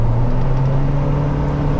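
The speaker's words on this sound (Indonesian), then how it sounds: "kalau kita gas lebih dalam lagi" A Chery Tiggo 5X engine pulls under deeper throttle, giving a steady, loud low whir and rumble from inside the cabin with no pause.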